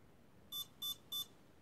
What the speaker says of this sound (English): Programming mode, 1 beep aircraft type.